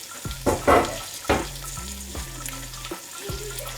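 Keema with peas and skin-on potatoes sizzles in a pan while a utensil stirs and scrapes through it in a few irregular strokes, close and fairly quiet.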